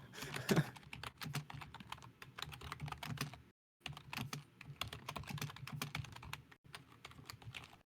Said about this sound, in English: I'm typing on the thing.